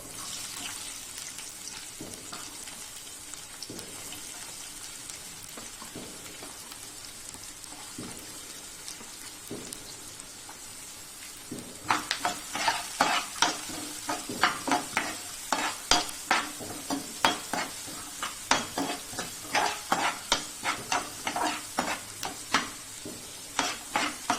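Onion and urad dal with mustard seeds and cumin frying in hot oil for jowar roti masala. A quiet sizzle runs at first, then it turns louder and busier, with rapid repeated scraping stirs and crackles toward the end.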